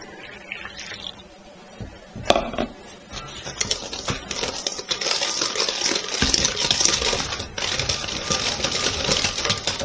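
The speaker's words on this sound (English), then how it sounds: "Whisk them together." A whisk clatters rapidly against a bowl as milk, cornstarch and sugar are beaten together for pastry cream, a busy, close tapping and scraping that builds in intensity and runs continuously.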